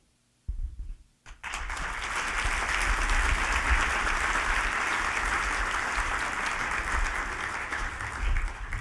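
Sustained audience applause fills a banquet hall at the SUU Founders Banquet 2022, starting after a brief pause and building into a steady, dense wash of many hands clapping that holds for several seconds.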